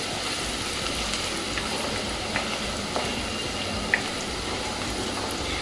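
Chopped vegetables and spices fry hard over a high gas flame for hotel-style noodles, a loud, unbroken sizzle close up, with a few faint clicks of stirring rising above the hiss.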